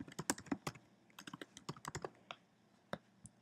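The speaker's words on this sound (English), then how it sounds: "if you type the URL directly into your presentation" Fingers type a web address on a computer keyboard in quick, uneven bursts of close, crisp key clicks, with a short pause near the end and no speech.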